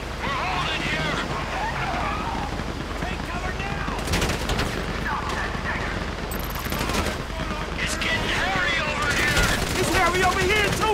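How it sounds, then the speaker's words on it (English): Gunfire from a shootout in the GTA V Paleto Score heist, with bursts of automatic shots running throughout under continuous shouting voices and busy game ambience. "You hear that gunfire?"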